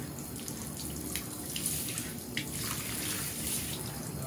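Water runs steadily from a repaired bathtub faucet, a continuous close hiss with slight splashing and no talk throughout.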